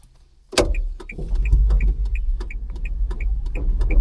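A Mahindra Zeo electric mini truck pulls away: a solid thump opens it, then a low rolling rumble with a steady, evenly spaced ticking chime, like an indicator or warning beep, repeating close by.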